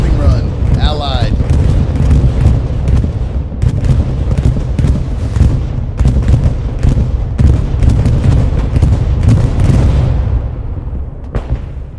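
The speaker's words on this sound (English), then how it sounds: "We have a bombing run." A bombing run in the World War II shooter Hell Let Loose sets off a continuous barrage of heavy booms and rumbling blasts, loud and dense, with someone talking throughout.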